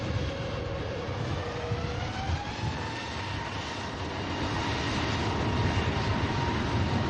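A KLM airliner departs Manchester Airport, its engines a broad, steady roar that holds and swells slightly over several seconds, with no one talking.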